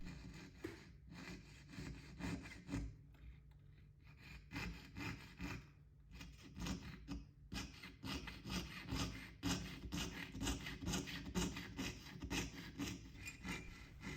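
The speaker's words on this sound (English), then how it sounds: "I'm using a jeweler's figure saw with a blade that's finer than a human hair." A jeweler's figure saw with a hair-fine blade hand-pierces a 1985 South African coin, making a steady, close rasping rhythm of quick back-and-forth strokes that runs almost without pause, with a few brief breaks.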